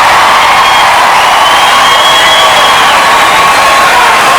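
A large debate audience cheers and whoops at a 2007 Democratic presidential debate, a steady loud wash of crowd noise with scattered high shouts, sustained throughout with no talk over it.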